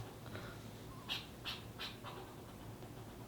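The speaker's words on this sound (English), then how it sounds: "Oh, it's a squirrel." Squirrel outside an open window gives three sharp, evenly spaced chirping calls, faint against a steady background hiss.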